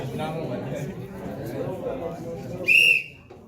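A short, bright whistle blast sounds near the end, following a stretch of people talking.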